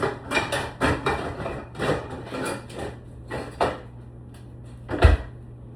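Metal pots are shoved and knocked into crowded kitchen drawers, a string of close, uneven clunks, rattles and wooden bumps with pauses, ending in one sharp loud knock.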